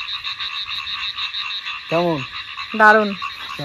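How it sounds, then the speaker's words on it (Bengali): At night in the rainy season in rural Bangladesh, frogs give three loud, throaty croaks close by, over a continuous high chirring of crickets. A person speaks briefly. "বর্ষাকালে ব্যাঙ ডাকে।"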